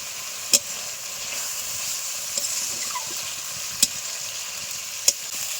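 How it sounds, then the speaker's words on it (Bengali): Prawns frying in spiced masala with a little turmeric, being stirred in the pan, as a steady close sizzle runs throughout, broken by three sharp clinks of the stirring utensil against the pan. "কষানো মশলার মধ্যে চিংড়ি মাছগুলো আমরা দিয়ে দিলাম।"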